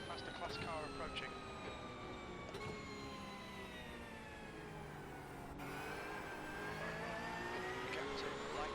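A race car in the iRacing sim during an IMSA race at Imola howls at high revs, its engine note climbing and dropping through gear changes in a loud continuous whine.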